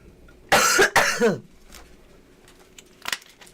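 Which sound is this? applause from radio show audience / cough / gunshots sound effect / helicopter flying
cough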